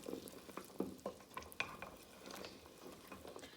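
A spoon stirring a pot of Guyanese pepperpot with fresh wiri wiri peppers: soft scrapes and faint bubbling, quiet and close, no talking.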